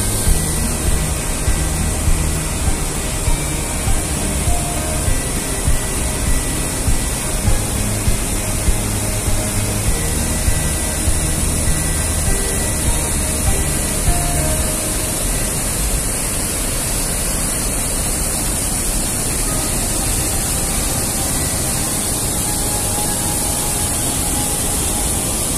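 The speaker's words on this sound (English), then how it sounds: "Big waterfall." Big waterfall at the Krušnica river spring, where about 24,000 litres of water flow each second: a loud, steady broadband roar and hiss of rushing water that fills the whole scene without pause and without voices.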